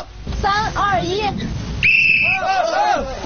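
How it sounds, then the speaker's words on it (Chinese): A referee-style whistle blown to start a race between a manual team and a machine, two short shrill blasts with chatter and a crowd murmuring around them, outdoors and close. "那我吹口哨，咱们准备开始就开始"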